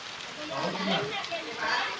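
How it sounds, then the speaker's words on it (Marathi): Steady patter of rain falling outside a house during wedding preparations, a soft continuous wash with faint scattered drops, while voices talk over it. "पाऊस पण आला"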